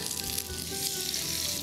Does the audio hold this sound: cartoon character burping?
no